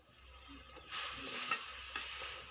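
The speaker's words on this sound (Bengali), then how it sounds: "যেই কাপের 1 কাপ জল নিয়েছিলাম সেই কাপের 1 কাপ ময়দা দিয়ে দেব।" Flour is stirred into boiling salted water to make dough in a pot, producing a faint hissing, scraping stir with a couple of soft knocks from the spoon.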